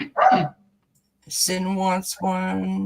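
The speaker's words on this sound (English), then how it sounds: "Sorry about my dog." A dog gives one sharp, close bark, then falls quiet before someone speaks.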